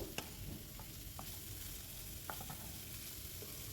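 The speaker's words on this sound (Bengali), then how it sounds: "ভেজে রাখা কুমড়োগুলো আমি দিয়ে দিলাম ভালো করে মিশিয়ে নেব" Fried pumpkin mixed into tomato masala in a pan, a faint steady sizzle with a few soft spoon taps and scrapes, quiet and distant.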